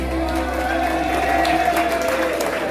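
Audience applause for the singer at a hotel performance, steady dense clapping sustained throughout at an even, loud level with a faint tonal hum underneath.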